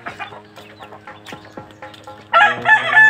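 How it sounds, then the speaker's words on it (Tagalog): Backyard Aseel chickens kept for meat breeding crow and cluck close by, with a burst of loud, overlapping crowing that swells in the final second. "binisita ko lang muna pala dito yung mga alaga nating manok"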